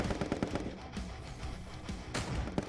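Rapid rifle gunfire in a first-person shooter game, loud dense bursts of shots crackling continuously across the whole moment, with no talking.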